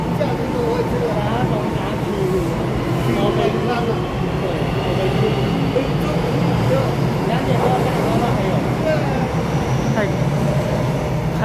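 A ten-car, silver-green EMU900 commuter train on a Taiwanese railway passes with a loud, continuous rumble and roar that hold steady throughout, while people talk nearby over it.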